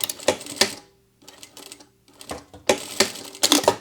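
A sewing machine tack stitching a webbing handle on a packing cube runs in four short bursts of fast mechanical stitching, separated by brief pauses, close and clear with no talking.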